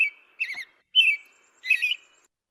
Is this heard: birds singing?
yes